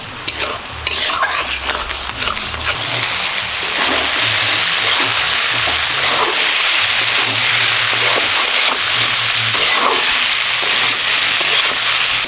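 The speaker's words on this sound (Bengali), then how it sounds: "ডালটাকে ভালো করে ঘেঁটে নিচ্ছি" Lentil dal with cumin powder being stirred vigorously in a pot, loud continuous scraping and sloshing with rhythmic utensil strokes against the pot throughout.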